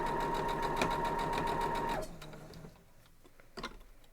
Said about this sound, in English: And then we just keep on sewing.